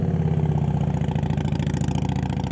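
A loud motorcycle engine at low throttle during slow-speed riding practice, a close, steady pulsing putter with a rapid even firing beat throughout and no speech.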